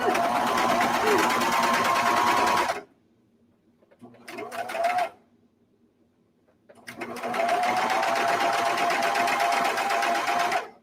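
A sewing machine runs along the arm seam of a fuzzy, cozy sweatshirt in two long steady whirring stretches separated by a brief burst, with a quiet pause between runs.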